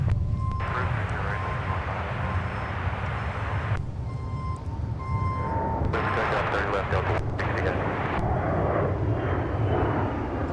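A heavy Airbus jet departing, a loud continuous roar of engines with rumbling low end and bursts of crackle, while radio chatter and voices come and go over it.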